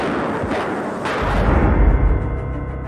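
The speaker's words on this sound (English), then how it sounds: "A man came out and fired some blanks at the pair." Blanks fired from a cartridge pistol, heard as a loud close burst with a booming low rumble that swells and then fades. No voices are heard.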